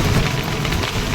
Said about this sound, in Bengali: দেখেন কেমন বৃষ্টি নেমেছে